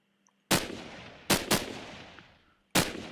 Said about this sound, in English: Okay, let's try the AK-74. I guess like an upgraded version of the AK-47.